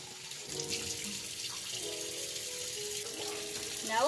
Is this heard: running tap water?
yes